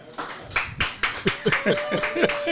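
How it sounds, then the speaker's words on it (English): An audience claps for guest Allen Odom at a live barbershop talk show, a short burst of loose, uneven applause close by. "I want y'all to give a standing ovation, a hand clap to the man himself, Alan Odom"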